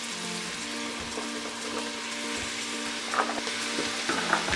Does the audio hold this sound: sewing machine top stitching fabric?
no